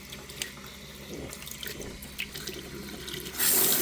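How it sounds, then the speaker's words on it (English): Water runs from an RV kitchen faucet switched to its secondary sprayer mode, a continuous close splashing stream into the sink that grows brighter and louder near the end. "if you have one of these faucets that has a secondary mode"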